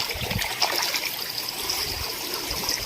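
Running water pours over ripe bananas as they are rinsed outdoors, a steady close splashing trickle with small irregular bumps from handling throughout.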